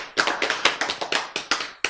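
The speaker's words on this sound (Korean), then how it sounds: "박수!" Audience claps in unison during a Korean Bible lecture, giving about ten sharp, evenly spaced claps in a steady rhythm, loud and close with no talk over them.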